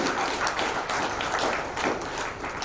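Many people in a ceremony audience at an NGO function in a Jodhpur hotel clap together, a thick, continuous patter of hands that stays fairly loud throughout.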